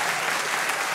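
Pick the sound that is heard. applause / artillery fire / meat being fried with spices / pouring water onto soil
applause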